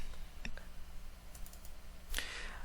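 Typing of a formula into an Excel spreadsheet on a computer keyboard: a few faint, scattered key clicks over a steady low room hum, with no talking.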